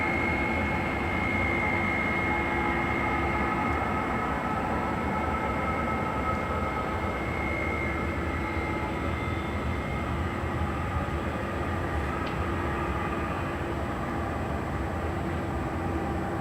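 A Boeing 767 jet taking off at LAX sounds as a steady, broad roar that holds loud and unbroken throughout, with a constant engine whine riding on top of it.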